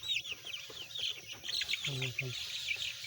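Small Koyla-breed chicks on a bed of wood shavings chirp and peep rapidly and continuously, faint and close, with a few soft lower clucks mixed in.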